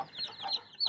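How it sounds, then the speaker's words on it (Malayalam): A spotted hen gives a short, close cluck lasting under a second, with no talk over it. "ഇതൊരു പുള്ളിക്കോഴിയാണ്"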